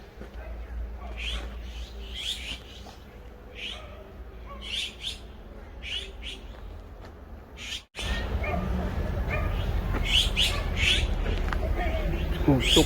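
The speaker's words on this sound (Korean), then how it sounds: "자, 여기 지금 새들이요" Wild birds calling along a forest trail near the Jungnang Stream at the foot of Suraksan in Seoul, repeated short chirps at a moderate distance over steady outdoor ambience, with a louder rustling rumble toward the end.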